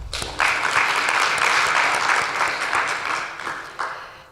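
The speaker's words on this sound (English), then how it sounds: "another round of applause for Group 3." Audience applauding at a peer learning seminar, a dense, steady burst of clapping that swells in quickly, holds and gradually thins toward the end.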